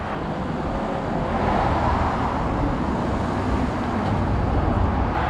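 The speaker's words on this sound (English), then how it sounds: "Ryan is planning to reverse and see if he can drive up this hill" Citroen Dispatch van reversing and then driving up a hill, with a steady engine rumble and road noise mixed with wind buffeting the microphone, holding loud and even throughout.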